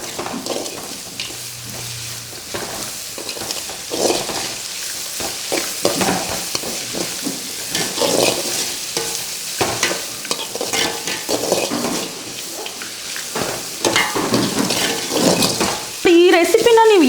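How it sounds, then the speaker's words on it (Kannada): Chitranna ingredients fry and get stirred in a pan, with continual sizzling and scraping strokes of a spoon close by, plus a brief clatter at the end. "ಇದನ್ನು ಕೂಡ ಹಸಿ ಸ್ಮೆಲ್ ಹೋಗೋವರೆಗೂ ಚೆನ್ನಾಗಿ ಫ್ರೈ ಮಾಡ್ಕೋಬೇಕು"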